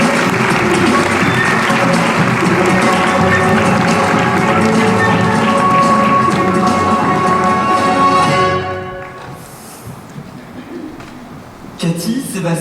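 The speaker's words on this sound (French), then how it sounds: "Merci d'applaudir très fort Cathy Emachua, Sébastien Sgualitaro et Steve Sidwell" A crowd applauds loudly to welcome guests onto the stage at a Disneyland Paris Lion King and Jungle Festival event, with dense clapping and music before it drops away, leaving quieter room sound and a brief burst at the end.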